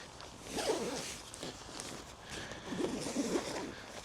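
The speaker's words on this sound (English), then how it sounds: "there it is, all zipped up" A zipper on a carp fishing bedchair is drawn closed in a few quick, scratchy pulls, close and fairly quiet, with short pauses between the strokes.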